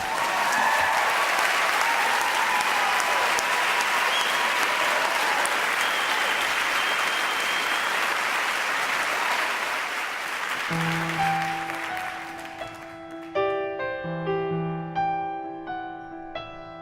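An audience gives a warm, sustained round of applause welcoming a singer at a book launch, loud and dense for about ten seconds, then fading as piano-like musical notes begin.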